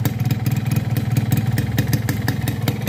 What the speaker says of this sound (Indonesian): Karena ini mesinnya dingin, baru banget nyala, terus knalpotnya aja masih basah.